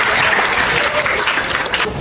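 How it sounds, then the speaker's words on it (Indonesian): A classroom group claps together after a geometry lesson segment, a short burst of loud, close, dense applause that carries evenly to the end. "Berikan tepuk tangan."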